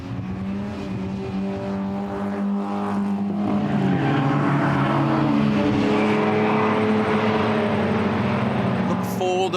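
BMW race cars battle for the lead at Taupo in E30 and Open Class racing, engines roaring loud and continuous with rising revs, a commentator talking over them.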